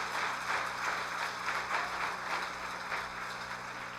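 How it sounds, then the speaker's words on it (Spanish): A church congregation claps together in a soft, continuous wash of applause that holds steady for several seconds, distant and fairly quiet, with no voice over it. "Dale un aplauso a Dios por tus hijos"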